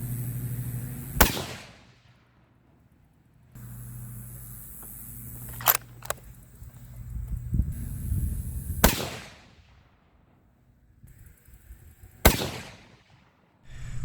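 A 7mm-08 rifle loaded with Barnes bullets fires about four sharp, loud shots several seconds apart while shooting a group outdoors, each crack followed by a brief echo and quieter handling between shots.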